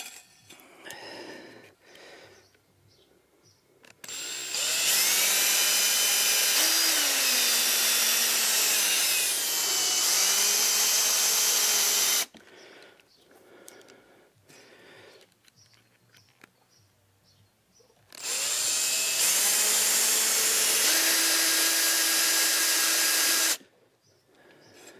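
Power tool driving spikes into the plastic wheel of a Worx robot mower, two sustained whirring runs of several seconds each with a pitch that rises and falls, separated by quieter handling noises.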